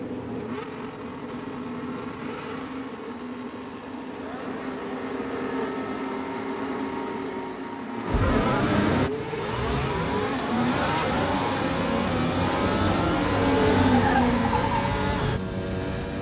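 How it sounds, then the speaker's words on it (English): F1 race cars accelerating hard off the start in the film F1, engines screaming and rising in pitch as they pass close by, with tire noise and a loud surge of overlapping engines midway through. "what all the cars sound like as they take off"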